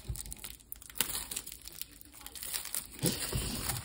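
Plastic wrapping on a manga artbook is crinkled and torn open close up, a quiet run of irregular rustles and crackles with a few sharper tears, and no one speaking.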